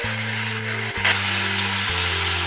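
Curry leaves sautéing in a pan, a loud, steady frying sizzle that runs throughout, with a sharp clatter of stirring near the middle and a low hum underneath.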